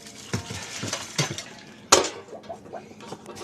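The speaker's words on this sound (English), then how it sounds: "I boil water, wash dishes." Dishes being washed in an apartment sink with boiled water: scattered clinks and clatters of plates and cutlery, one sharp louder knock near the middle, close by and intermittent with no talking.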